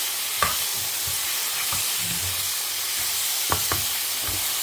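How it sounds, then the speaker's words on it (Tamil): Prawns sauté in a pan with salt, turmeric and chili powder for jhinga bhapa, a steady close sizzle with occasional stirring knocks of a spoon against the pan. "இது கொஞ்சம் வதக்கினதுக்கப்புறமா கொஞ்சம் ஜலம் குத்தி மூடி வைக்கலாம்."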